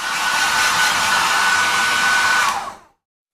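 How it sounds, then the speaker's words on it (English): A hair dryer blows loud and close in a steady, continuous rushing whir with a faint whine, then cuts off abruptly as it is switched off. "Hair dryer."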